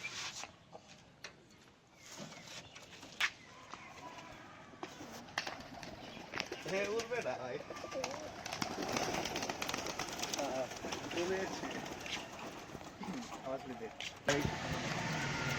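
Pigeons of an old yellow-eyed Rajshahi bloodline coo and call faintly at home amid steady background noise, with occasional passing traffic and a person talking.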